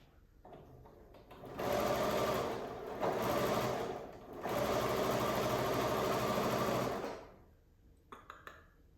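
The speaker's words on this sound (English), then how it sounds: "I sew it so that the seams are at the top." A sewing machine stitches quilt block seams in three sustained runs with short pauses between, loud and close, ending with a few faint clicks.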